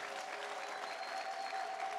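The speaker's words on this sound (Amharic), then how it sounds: "አንድ ወንድ የሆነ ሰው አጨብጭቡ ለጌታ ክብር ይስጥ" A church congregation applauds in a steady, moderately distant patter of many hands that continues evenly and ends in a sharper clap.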